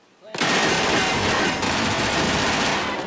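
A German machine gun fires a sustained, dense burst of loud, rapid automatic rounds in a war-film battle scene, starting abruptly after a brief quiet moment and continuing without pause.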